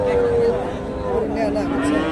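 Cattle moo with drawn-out, tonal lows amid the steady murmur of a busy cattle market in Bogura, where hybrid bulls such as Shahiwal and Friesian crosses are sold; voices and crowd noise run under the calls throughout.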